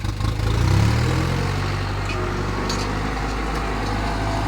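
A tractor engine runs steadily nearby with a low, even drone, swelling slightly in the first second and then settling into a constant idle-like hum.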